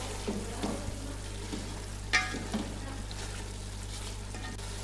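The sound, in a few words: chicken frying and being stirred in a pot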